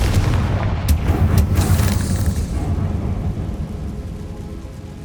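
Confringo blasting spell explosion in the Hogwarts Legacy video game: a loud rumbling blast with crackling bursts early on, decaying into a long low rumble that fades over several seconds.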